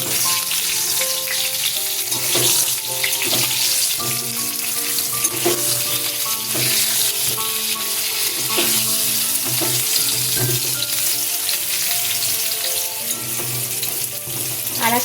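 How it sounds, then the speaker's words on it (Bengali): Pointed gourds fry on their second side in oil, a loud continuous sizzle crackling close by for the whole stretch, with some faint tonal ringing beneath and no talking. "আর এক পিঠ ভেজে নিয়ে পটলটা তুলে রাখছি।"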